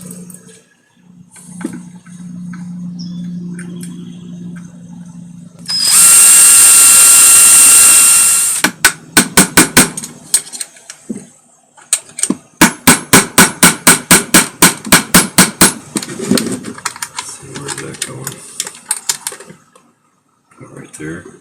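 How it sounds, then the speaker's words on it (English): Hammer striking a nail into a scrap-wood Dremel caddy, a fast run of sharp close blows in bursts after a loud hissing noise, with a voice talking briefly. "bend this one so I can nail it in there"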